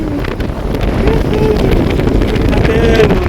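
Strong wind buffets the microphone in a constant low roar on a fishing boat, with water and the boat motor faintly beneath and a voice briefly audible.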